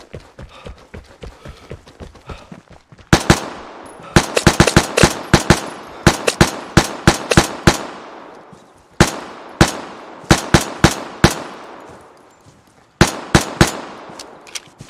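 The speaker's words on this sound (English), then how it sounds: "Was that just firing two bullets" Grease gun firing in the video game Vigor: loud, close bursts of sharp shots in short clusters with pauses between, plus lighter clicks and footsteps early on.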